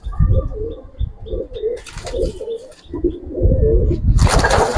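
Giribaz pigeons on a breeding farm coo repeatedly in soft low rolling calls close by, with brief chirps and a burst of flapping wings near the end, no talking.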